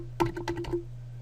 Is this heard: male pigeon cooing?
no